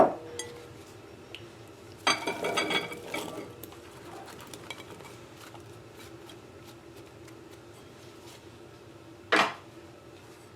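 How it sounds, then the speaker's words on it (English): Chopped apple and strawberries tipped into a bigger bowl, giving a few short clattering bursts of fruit and utensil against bowls, separated by quiet stretches. "I'm going to transfer that into a bigger bowl."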